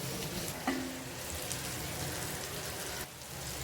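Chicken pieces, including leg pieces, sizzle steadily in oil in a half-covered pan, browned on both sides and kept crispy, with a brief metallic clink early and a continuous close frying hiss throughout.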